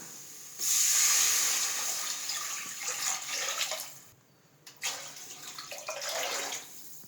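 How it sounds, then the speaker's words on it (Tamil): Water pours steadily in strong bursts into a pot of rice and lentils, with a brief pause midway before flowing again; no voices. "2 பங்கு தண்ணி ஊத்திக்கலாம்"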